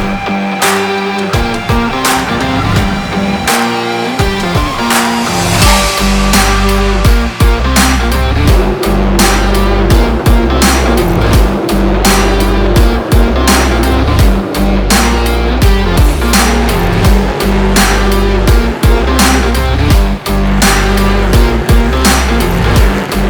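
Stock Car race cars with V8 engines at the Curvelo circuit (Circuito dos Cristais), a loud, continuous engine roar with rising and falling revs as cars pass close by, sustained throughout without talk.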